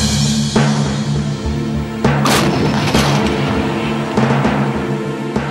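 A Russian 2S5 Giatsint-S self-propelled gun fires, with several loud booming blasts spaced a second or two apart over a steady, droning engine hum.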